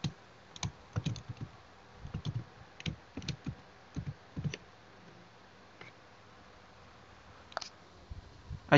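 A password typed on a computer keyboard: irregular bursts of close key clicks over several seconds, a pause, then a few more taps, with no talking.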